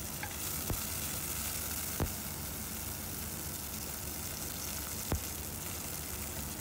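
Curry leaves fry in hot oil for rajma curry, giving a steady, even sizzle throughout with a few sharp taps of a utensil against the pan.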